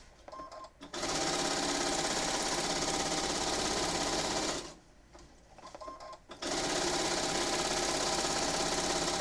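Domestic sewing machine running a long basting stitch through a quilt, a steady loud mechanical whir that runs about four seconds, pauses briefly, then resumes.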